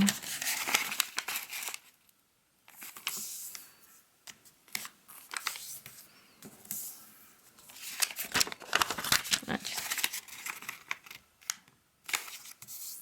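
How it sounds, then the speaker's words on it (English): Origami paper being folded in half and diagonally: crisp crinkles, sharp creasing swipes and rustles in irregular bursts with brief pauses, close up and fairly loud, no talk. "we're just going to fold it in half both ways and diagonally both ways as well"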